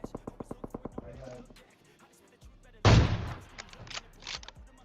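An AWM sniper rifle in PUBG Mobile fires one loud, sharp shot that rings out and decays, preceded by a quick run of regular soft thuds and other game noise.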